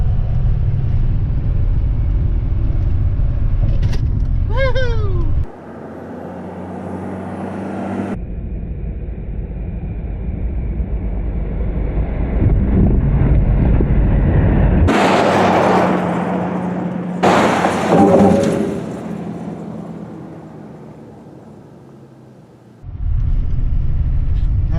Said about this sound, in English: I'm going to give her a little juice going up over this cattle guard.